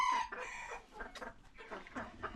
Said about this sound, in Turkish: Bir tavuk bu.